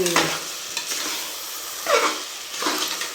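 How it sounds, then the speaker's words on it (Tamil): Chicken sautés in masala in a pan for biryani, a soft sizzle under several firm stirring scrapes, with two distinct strokes toward the end, close and with no talking. "இப்போ வந்து நம்ம சிக்கன் போட்டுக்கலாம் இதில் சிக்கன் வந்து நல்லா வதக்கி விட்டு"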